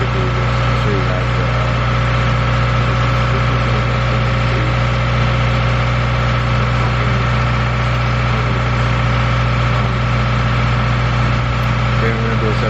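A Subaru WRX (2015 or newer) fitted with a Mishimoto intake runs with a loud, steady engine drone and intake rumble, continuous throughout, with a voice partly audible over it.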